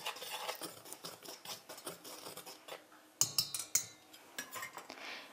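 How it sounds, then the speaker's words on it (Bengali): A small whisk works rice flour and salt in a bowl for patishapta batter, giving quick, light, irregular taps and scratches, close and fairly faint, with no talk. "এবার আমি এই শুকনো উপকরণগুলো হাত দিয়ে এরকম হ্যান্ড উইক্স দিয়ে আমি একটু মিশিয়ে নিচ্ছি"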